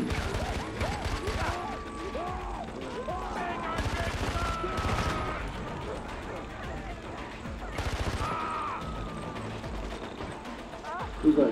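Rapid automatic gunfire and bursts of explosions in the video game Far Cry 4 rattle on almost without pause, dense and loud, with a player talking over the din.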